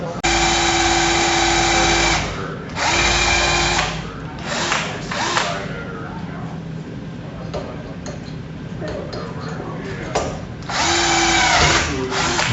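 A power drill whines loudly in bursts with pauses between them, hand drilling attachment holes for a drivetrain, and people talk and tools clatter during the gaps.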